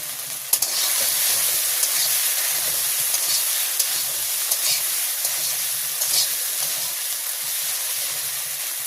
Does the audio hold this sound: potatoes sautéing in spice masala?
yes